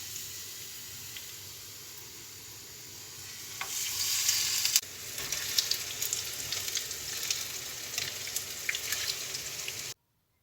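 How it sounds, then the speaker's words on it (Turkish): Steady crackling sizzle of tempura-battered okra frying in hot oil, growing louder and busier midway as more pieces hit the pan, with no talking. "sıvı yağ dolu tavamızın içine tek tek atıp önlü arkalı Güzelce hepsini kızartıyoruz"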